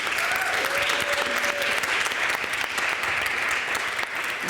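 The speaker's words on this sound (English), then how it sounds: "Please give a warm applause to this demo" An audience at an eco-social renewal event breaks into sustained, dense applause that stays loud and even, with a faint tonal hum briefly underneath.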